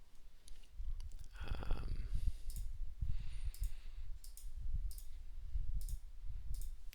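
A computer mouse clicks faintly and sporadically at a desk as trading-software settings are opened, scattered light clicks over quiet background noise.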